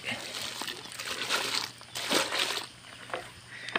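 Water poured into a bucket of cattle feed on a rural farm, close sloshing and splashing with a soft wet crinkle as it fills the mix.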